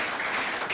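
A short burst of audience applause at a church gathering, dense and continuous clapping from many hands, heard on its own.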